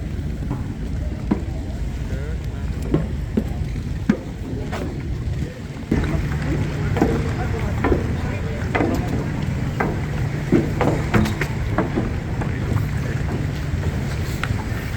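Steady engine drone and rushing water on a boat crossing to Boracay, with wind buffeting the microphone and occasional knocks and splashes from choppy waves.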